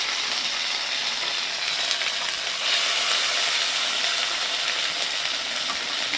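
Onion paste hits hot oil in a pan, where garlic paste is already frying, and gives a loud, continuous hissing sizzle that holds evenly throughout with no talk.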